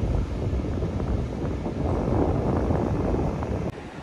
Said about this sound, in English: now it's cloudy and windy